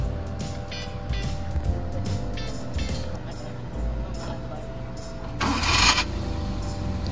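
A car engine idles and labours as a learner driver pulls off in first gear, running roughly before a louder lurch near the end; someone talks over the sound throughout.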